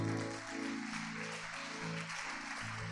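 A church congregation applauds in worship, a soft, steady patter of clapping running quietly throughout, with sustained musical tones layered underneath.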